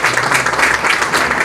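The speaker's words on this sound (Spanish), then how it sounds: "Un fuerte aplauso." A theatre audience claps in a dense, continuous burst of applause, loud and close, filling the whole moment.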